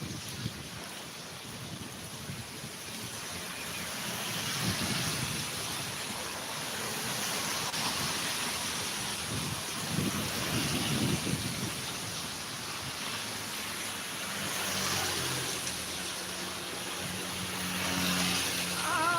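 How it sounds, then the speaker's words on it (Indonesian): Rain falls steadily during a morning walk, a broad continuous hiss mixed with gusty wind buffeting the microphone, swelling and easing in waves without any voices. "Ini masih hujan, itu kelihatan ya, masih hujan."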